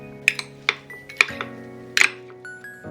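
Utensils clink sharply against a bowl as a cucumber avocado salad is tossed with dressing, giving a handful of scattered, close, light knocks with quiet pauses between them.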